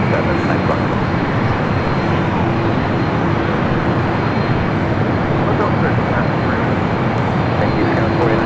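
Jet airliner on takeoff roll from LAX's north side runway, an Aer Lingus flight bound for Dublin, producing a steady, loud broadband engine roar that holds constant throughout with a faint tonal hum underneath.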